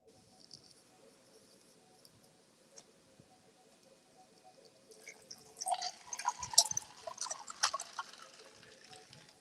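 Water from one cup poured into another, a soft trickling splash that rises midway and lasts a few seconds, close by and over faint background ambience.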